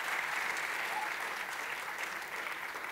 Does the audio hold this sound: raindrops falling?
no